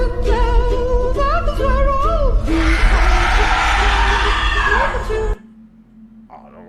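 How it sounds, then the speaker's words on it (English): A woman screams in a loud, sustained, piercing burst lasting a few seconds, preceded by excited voices and followed by sudden near-silence. "I don't know why she was screaming at us."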